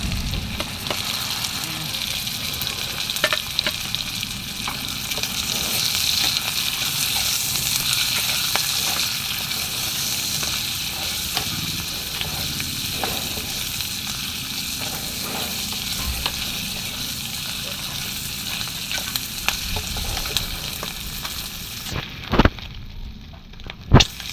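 Ginisang monggo being sautéed in a pan, mung beans stirred into the sizzling oil: a steady, close frying hiss with scraping stirs, no talk, and a brief quieter gap near the end.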